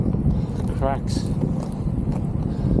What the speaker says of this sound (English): Oh god, it's so windy.